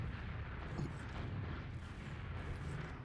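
A rocket explosion in a team shooter: a low, rumbling blast wash that holds steady and loud across the whole clip, with no clear talk.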